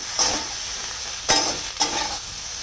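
Spice masala sautés in a pan before crabs go in, with soft sizzling and three distinct bursts of scraping stirring spaced through a few seconds, near and moderately loud with no voices.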